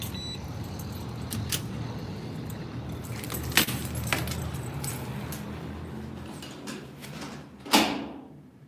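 A bunch of keys jangles and clinks in loose, irregular bursts close by, with a sharper metallic rattle near the end and no voices.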